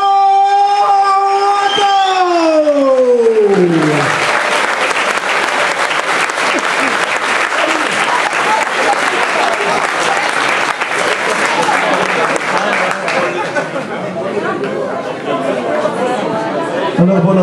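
An audience applauding a public works alderman at his retirement, sustained loud clapping with crowd chatter, beginning under a fading voice and swelling to fill the room.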